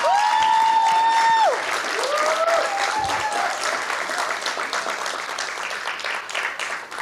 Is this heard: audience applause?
yes